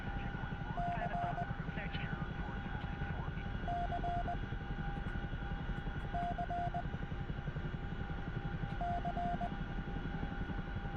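Chinook helicopter in the DCS flight simulator, giving a constant droning rotor and engine hum that fills the whole stretch, with repeated short cockpit warning tones and faint radio chatter.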